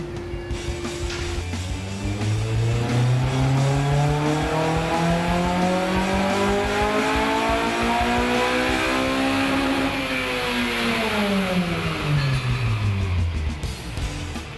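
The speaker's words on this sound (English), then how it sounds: "It's time to dyno test." A 2008 Honda Civic Si fitted with a Skunk2 exhaust revs up steadily on a dyno, its engine pitch climbing for several seconds to a loud high peak before winding back down, sustained and close with no talking.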